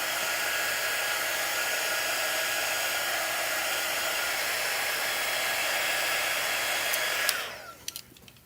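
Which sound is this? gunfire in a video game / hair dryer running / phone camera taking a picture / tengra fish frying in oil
hair dryer running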